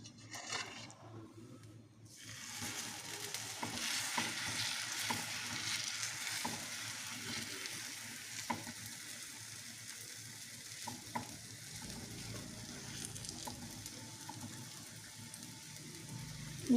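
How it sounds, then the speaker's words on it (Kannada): Utthappam batter spread onto an oiled hot pan sizzles and fries steadily for the whole stretch, with light scraping and stirring at close range after a quieter start. "ಈಗ ಇದನ್ನ ಬ್ಯಾಟರ್ನ ಹಾಕಿ ಸ್ಪ್ರೆಡ್ ಮಾಡ್ಕೊಳ್ಳೋಣ"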